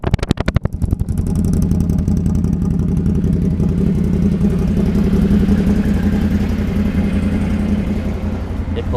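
A 2013 Can-Am 1000 XMR runs through an HMF exhaust, starting with sharp, loud pulsing blips that settle into a steady, deep, close rumbling idle that fades slightly at the end.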